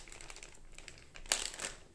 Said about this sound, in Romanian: haideți să desfacem și punga cu accesorii